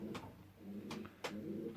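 Pigeons in a garden loft holding laced and white-barred birds coo softly in several soft rolling calls spaced through the moment, close by against a low background hum.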